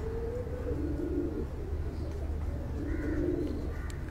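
Soft, low coos from a female pigeon repeat in a steady rhythm close by, over a constant background hum.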